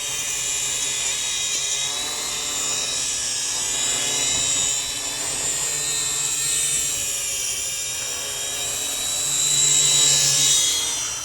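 Shengkai D97 FPV quadcopter drone in flight outdoors in a light breeze, a steady high-pitched motor and propeller whine that holds continuously and swells slightly louder near the end, with no talking.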